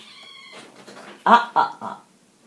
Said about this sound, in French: petit chat qui embête le gros.